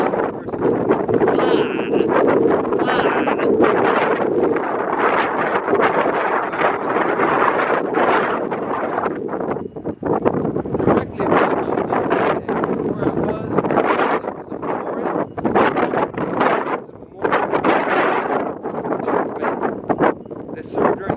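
Strong wind buffets the microphone in steady, loud roaring gusts with heavy low rumble throughout, and a voice seems to talk faintly beneath it.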